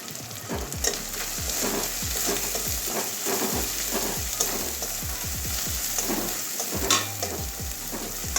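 Cumin and coriander powder sizzle hard in a hot oiled pan, a dense close crackle with quick knocks and scrapes of a spoon stirring throughout, and no talking.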